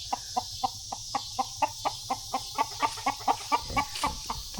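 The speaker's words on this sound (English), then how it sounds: "Dog is bothering the rooster." A rooster clucks in a quick, steady run of about twenty short calls, close by and moderately loud over a low background hum, with a dog bothering it.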